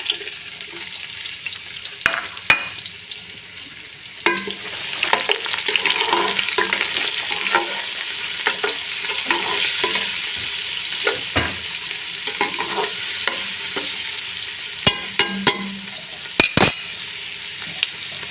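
Whole spices such as pepper, cloves, cardamom and fennel fry with onions in oil for a Kuwaiti-style fish rice, a continuous close sizzle broken by sharp scrapes and clinks of a stirring spoon, no voices.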